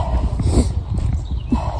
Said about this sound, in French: Les chevaux viennent me voir en mode c'est l'heure de manger